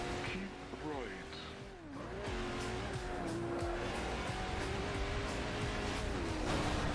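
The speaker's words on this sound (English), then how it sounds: "Go, McLaren P1, we're doing hard" A McLaren P1 races at Laguna Seca in the Forza Horizon video game, its engine droning steadily with rising and falling pitch sweeps from gear shifts, loud and continuous throughout.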